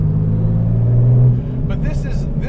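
A Porsche 964 Turbo with a 600 HP Andial Pike's Peak engine drones loudly from inside the cabin with a steady low engine hum that eases off partway, while people talk over it.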